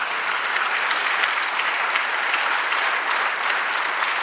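A church congregation during a sermon bursts into loud, dense, continuous applause, an even wash of many hands clapping with no pause or talk, close and full throughout.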